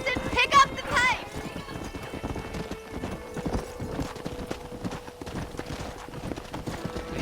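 Rhythmic clip-clop of horse hooves in the Red Dead video game, a steady galloping beat with a whinny near the start, under ongoing talk.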